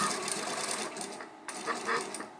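A sewing machine stitches a seam on fabric for a dog bandana, a close, rapid mechanical whirring that pauses briefly midway, then resumes in short bursts.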